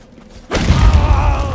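In the video game Conan Exiles, a delayed explosion blows open a stone gate: after a quiet moment, a sudden heavy boom hits and a loud rumbling roar with debris follows.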